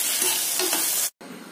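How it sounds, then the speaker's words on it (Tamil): Tomatoes sautéing in hot oil for tomato kuzhambu, a loud, close, steady sizzle with a brief stir, cut off by a short gap before resuming. "இது எண்ணெயில போட்டு ஒரு 5 நிமிஷம் நல்லா வதக்கணுங்க"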